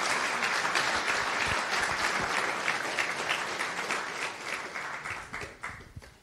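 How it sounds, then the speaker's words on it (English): Audience applause for a pair of speakers at a Rust software engineering conference, with dense, steady clapping from a room full of people that fills the whole stretch and thins slightly toward the end. "So applause for them."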